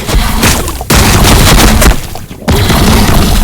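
Loud, dense bursts of gunfire and booming blasts from battlefield combat in the video game Warhammer 40K Battlesector, Tyranids against the Astra Militarum, coming in two sustained volleys with a brief lull between them.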